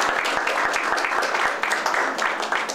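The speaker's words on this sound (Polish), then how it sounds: "Brawa dla sponsorów." Audience at a gala announcing best-school plebiscite results applauds the sponsors with a steady, dense wash of clapping, a few sharp individual claps standing out near the front.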